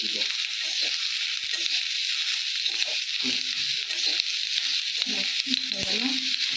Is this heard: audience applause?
no